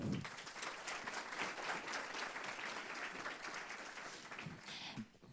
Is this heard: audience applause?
yes